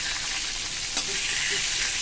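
Food sizzles steadily in a hot pan, a dense, close frying hiss that runs throughout with a brief clatter near the middle and no voices.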